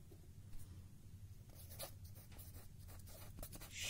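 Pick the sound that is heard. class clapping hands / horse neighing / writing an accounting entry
writing an accounting entry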